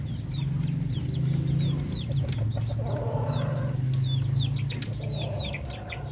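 Darag native chickens and ducks cluck and chirp steadily over a low, continuous hum, with a busy farmyard feel and no talking.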